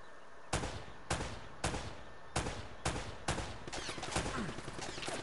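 A turret in the video game Uncharted fires in sharp repeated bursts, roughly one every half second and then a quicker volley at the end, loud and close over faint background sound.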